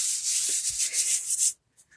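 A Chalk Couture transfer is rubbed firmly onto a surface, giving a steady, close, scratchy friction that runs for about a second and a half before stopping abruptly, followed by near silence.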